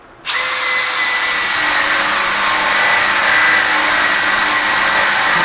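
A Makita DHP483 cordless drill in drilling mode, second speed, bores with a 1-inch spade bit, starting abruptly into a loud, steady high-pitched whine that holds evenly to the end with no talk.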